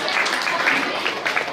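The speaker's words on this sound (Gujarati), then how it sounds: "1 2 3 તાળીઓના ગણગણાથી વધાવો" An audience at a school children's science exhibition in Adesar claps steadily, a dense patter of many hands that stays fairly loud and close for the whole moment.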